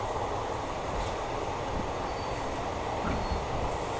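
Trivandrum–Tiruchy Intercity Superfast Express running at about 110 km/h, a steady loud rumble of wheels and carriage roar with faint rail clatter throughout, no voices.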